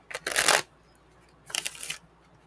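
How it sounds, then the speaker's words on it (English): Deck of tarot cards being shuffled in two crisp riffling bursts close by, with a quiet pause between them and no talking. "when I'm shuffling and split the deck"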